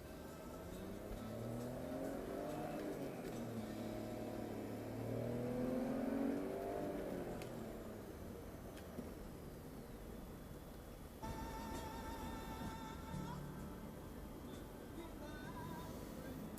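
BMW X5 with 150,000 miles on the clock at high road speed, engine note rising as it accelerates under steady tyre and wind roar heard from inside the cabin, with a whining shift partway through.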